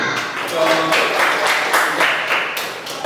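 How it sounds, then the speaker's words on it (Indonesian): A small group applauds at an Islamic religious education session at UIN Raden Mas Said Surakarta, brisk close clapping sustained for about three seconds. "Tepuk tangan."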